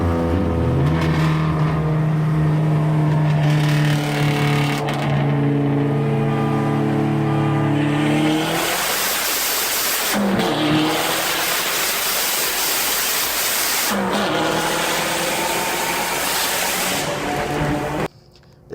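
A Dodge Neon SRT4 engine roars loudly and continuously, its pitch climbing and falling through revs with a rushing, gritty exhaust note that cuts off abruptly at the end.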